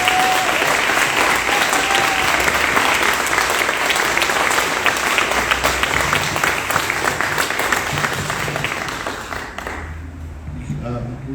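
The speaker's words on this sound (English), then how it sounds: "please could we recognise and give a round of applause for Chris Budge." Sustained applause from an audience at a charity's annual general meeting, dense steady clapping for a volunteer that carries on for several seconds before fading out near the end.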